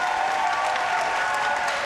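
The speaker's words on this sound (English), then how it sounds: "Give him one more big round of applause" Sustained applause and cheering from a live crowd at a Classic Tetris World Championship, a steady, dense wash of many hands clapping with no break.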